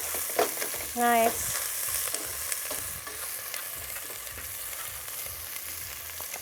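Onions frying in an oiled pan make a soft, steady sizzle with occasional utensil clinks, fairly quiet; a brief tonal beep sounds early and a person speaks a single short word.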